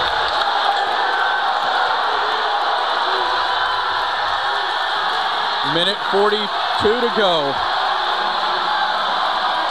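A basketball arena crowd at an NCAA men's college game, Jacksonville against Jacksonville State, roars steadily with fans on their feet, a dense sustained cheer throughout while an announcer talks over it and brief whistle-like squeaks rise near the end.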